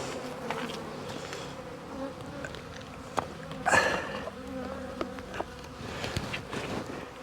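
Honeybees buzz around an opened hive during feeding, a steady close drone with individual insects zipping past the microphone and a few faint clicks and knocks.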